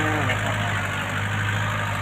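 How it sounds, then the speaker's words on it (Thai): A hired tractor idles while preparing a field for planting Napier grass, a steady low rumbling drone with a constant hum, close and unvarying, with no other sounds over it. "อันนี้ก็จ้างรถไถมา"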